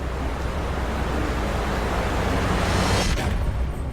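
A Jungle Cruise ride boat passes through a waterfall, giving a steady loud rush of falling water that cuts off abruptly near the end as the boat clears the curtain.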